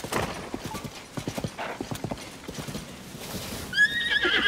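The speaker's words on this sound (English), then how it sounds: "Horse." A horse in Zelda: Tears of the Kingdom clip-clops along in a rapid, steady hoof rhythm, then gives a loud, rising whinny near the end.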